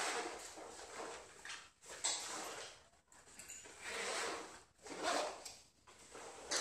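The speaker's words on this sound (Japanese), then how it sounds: "ジッパーを閉めましょう。" Zipper being drawn closed on a Rothco MOLLE 3-day assault pack with a PVC-coated surface, a series of quiet raspy pulls with short pauses between strokes, close by and alone.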